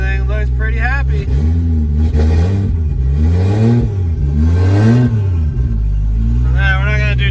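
A budget turbo 2JZ engine on its first start revs loudly and close, climbing and falling in repeated throttle blips with a rough, strong tone, and people talk over it.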